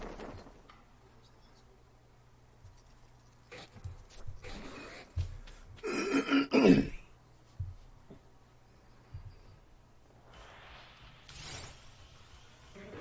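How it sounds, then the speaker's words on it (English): A person clears their throat directly into a microphone, a brief rough burst near the middle amid quiet shuffling and small mechanical noises. "just clearing my throat on the mic there"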